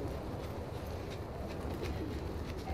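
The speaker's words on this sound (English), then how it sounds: "I hear pigeons too." Pigeons coo softly among the ambient sounds of a high, windy area in The Last of Us Part II, with steady low wind noise throughout and no talk over it.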